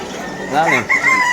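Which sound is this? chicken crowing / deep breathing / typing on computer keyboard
chicken crowing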